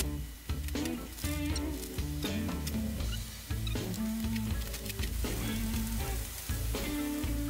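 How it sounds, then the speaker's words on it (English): Bolognese sauce sizzling loudly in a crowded pan, a steady dense frying hiss with stirring clatter running throughout, no voices. "So right now I'm making the bolognese sauce. Yes, I'm crowding the pan."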